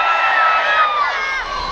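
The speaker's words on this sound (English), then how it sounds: "So my American friends, give us a cheer." A cruise ship audience cheers and whoops in a loud, sustained roar of many voices, close and steady throughout.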